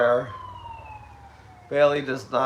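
A siren wails outside with a long, steady falling tone that fades as it passes, heard faintly beneath people talking indoors.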